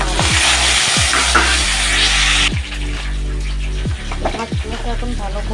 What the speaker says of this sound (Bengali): এই কড়াইয়ের তেলের মধ্যে আমি 5 ফোড়ন দিয়ে দিলাম, আর এই যে কাঁচা লঙ্কা আর কেটে রাখা ডাঁটা